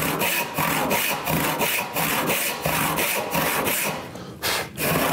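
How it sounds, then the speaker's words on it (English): A regular rip saw cuts through a piece of scrap wood clamped in a vise, giving steady, close, rhythmic rasping strokes with brief pauses between them. "with my piece set up in my vise, I'm just going to use a regular rip saw"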